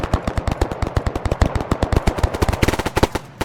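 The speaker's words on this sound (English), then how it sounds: "You just see all that fire coming." Attacking Vipers in a video game unleash rapid machine-gun fire: loud, close bursts of sharp shots in a fast, uneven rhythm, with no talking.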